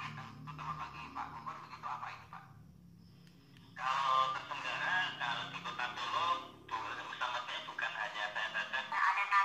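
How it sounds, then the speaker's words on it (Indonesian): FM radio plays through the small speaker of a Ti.Phone T90 phone, tinny and band-limited, with bursts of broadcast sound separated by brief gaps. "di sini kita coba tes buat mendengarkan radio di HP ini"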